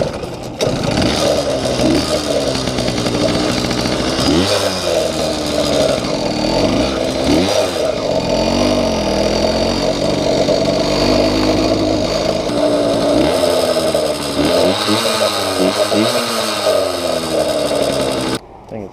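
A Yamaha YD100 motorbike with a stock and Dio reed setup runs loud and close, its engine revving up and down in waves before it sputters and cuts out near the end, out of fuel, while someone talks over it.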